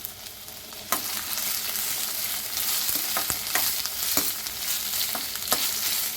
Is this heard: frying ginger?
yes